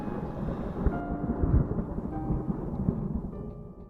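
A thunderstorm on a dark night, with steady rain and a bitter cold wind making a continuous, fairly loud rumbling roar that swells and eases without any clear break.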